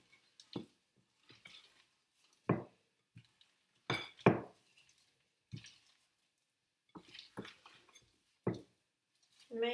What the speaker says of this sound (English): So stir it nice and gently.